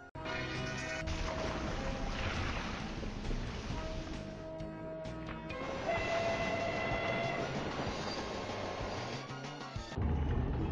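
Railway noise from the Who Dunnit pinball game plays steadily for about ten seconds: rolling clatter of train cars with a sustained horn tone sounding through, loud and continuous.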